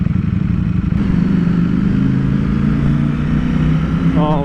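A Ducati Streetfighter V4 S (2020) sport motorcycle engine with stock exhaust idles and revs with a rough, rattly exhaust note, close and loud, steady throughout with a brief rising rev near the end.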